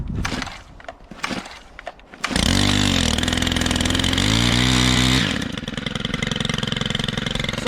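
Stihl KM131R KombiSystem with pole saw attachment, started on choke: a few pull-cord tugs and sputters, then the two-stroke engine catches and roars loudly for several seconds before settling to a slightly lower, steady running drone.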